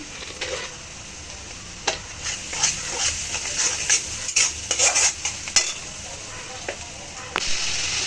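Koi fish frying in a pan with turmeric and salt, a steady sizzle under repeated scraping and stirring strokes, close and fairly loud.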